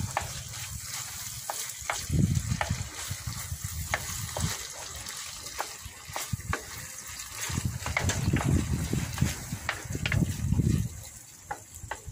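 Snail sisig with mayonnaise frying and being stirred in a pan, steady sizzling with repeated scraping clicks from the spoon and louder bursts of stirring, no talking.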